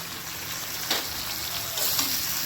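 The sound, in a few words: chicken meat being fried in a pan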